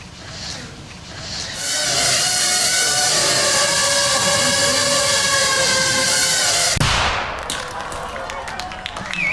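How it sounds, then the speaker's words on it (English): A 3-gram shaped explosive charge detonates with one short, sharp bang that follows a long, loud, steady buzzing drone and gives way to quieter background noise. "Inside here is 3 grams of shaped explosive."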